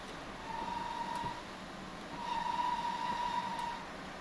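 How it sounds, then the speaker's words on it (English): A train whistle sounds twice as a steady tone, once briefly and then longer, over the continuous low rumble of the train running on the rails. "Don't love the way the whistle sounds on this train."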